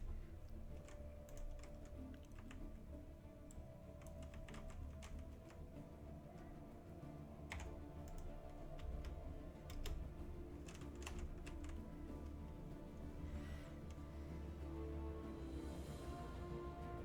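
Rapid, irregular key clicks from typing on a cheap computer keyboard, a steady close-up clatter over a low hum of background noise during a Stellaris strategy game session, with no speech.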